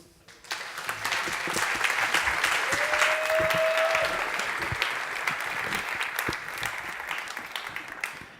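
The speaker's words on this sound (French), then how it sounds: "Je vous demande d'applaudir Solène Maître." A conference audience applauds a speaker as she takes the stage, a sustained, evenly spread round of clapping from a large room that builds quickly and holds for several seconds.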